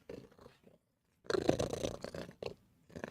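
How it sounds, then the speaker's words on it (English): A pet cat purring up close, a rough rumbling purr heard in uneven bursts separated by short silences, moderately loud in a quiet home kitchen. "Oh, so many purrs."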